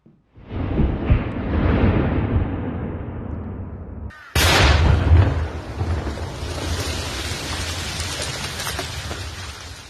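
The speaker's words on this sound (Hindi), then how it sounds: "फिर सुरक्षा बल ने वहां रॉकेट लॉन्चर से रॉकेट दाग दिए।" Security forces fire rockets from a rocket launcher in a forest operation: a loud, sustained roaring blast, then a sharp second launch about halfway through, each one trailing off into a long rumbling wash.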